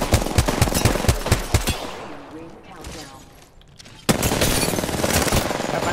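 Rapid Apex Legends gunfire, a quick burst of evenly spaced shots up close, then a lull and a renewed dense burst of loud combat noise.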